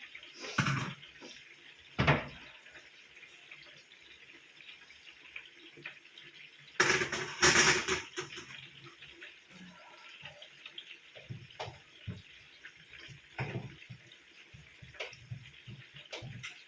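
Hot water and cooked noodles pour through a strainer, giving a broad splashing rush in two strong bursts, the longer around the middle, with a steady watery hiss and scattered small clinks between.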